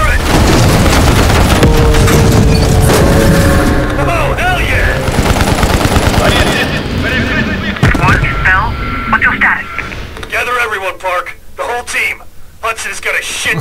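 Gunfire in Black Ops Cold War in Berlin, dense rapid machine-gun bursts with booms, loud and close, under shouted speech throughout.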